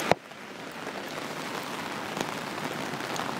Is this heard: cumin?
no